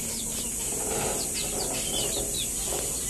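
A one-year-three-month-old Japanese Shamo broodcock on a farm, with short clucks and chirpy calls over a steady hissy background, fairly close and moderately loud.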